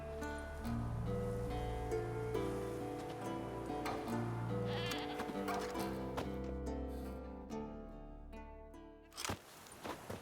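A goat tied to a stake as forktail bait in the fantasy video game The Witcher 3 bleats several times, close and clear. Each call is a wavering, nasal cry, heard over faint rustling and footsteps.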